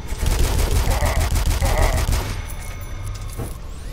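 Rapid gunfire in the video game Dusk, a fast, loud burst of repeated shots for about two seconds, followed by quieter residual game sounds and a couple of fainter hits.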